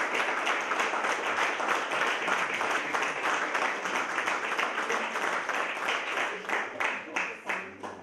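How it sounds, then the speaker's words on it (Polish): A large audience applauds award-winning primary school students at a scholarship ceremony in Szczecinek, with dense, steady clapping throughout that starts to thin and break into separate claps near the end. "wielkie, wielkie brawa"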